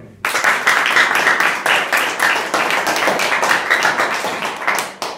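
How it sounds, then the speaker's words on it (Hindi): Students at an inter college clap together, a dense, loud burst of applause that starts abruptly and carries on steadily for about five seconds before thinning out. "ताली बजाओ।"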